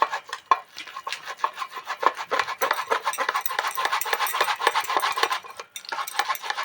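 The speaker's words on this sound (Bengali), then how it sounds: "এইবারে আমি তালের নোদটা এইভাবে ঘষে ঘষে বের করব" Ripe palm fruit pulp being rubbed by hand against a basket, a close, fairly loud run of rhythmic wet rasping strokes that continues steadily with brief pauses.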